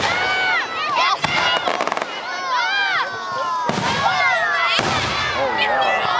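Canada Day fireworks display in Thunder Bay, loud bursts and crackling sparkles one after another, with shrill whistling trails, close and dense, while a crowd and nearby people talk and cheer.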